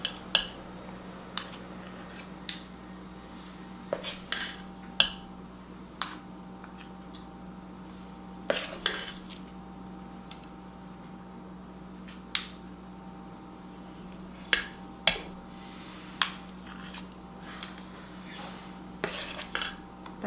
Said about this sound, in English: I just get some on my spoon and drop them out.